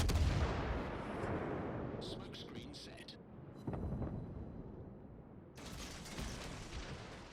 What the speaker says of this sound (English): There are 2 cruisers shooting her.